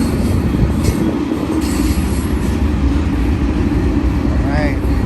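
A BNSF heavy freight train rolls out of Sullivan's Curve near the old Cajon depot site, a steady loud rumble of wheels and cars with a brief wheel squeal near the end.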